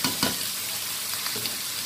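Vegetables fry in spiced oil in a pan, a soft continuous sizzle broken by a few light scrapes and clinks of stirring.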